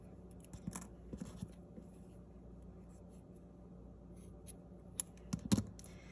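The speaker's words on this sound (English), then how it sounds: "And now I'm going to cut my yarn." Scissors snip through crochet yarn after a granny square is worked. A quiet room hums faintly before a couple of short, crisp cuts close by near the end.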